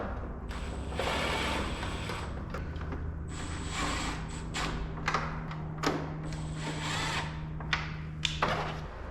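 A power tool drives bolts back into a BMW G87 car bumper, close by, in repeated short whirring bursts with ratcheting clatter and brief pauses between bolts, with no talking.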